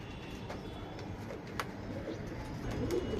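Soft cooing of a Rakdar lineage pigeon, a gold-shaded bird with a light ring, sounds in short low murmurs against steady background noise, with a faint chirp near the end.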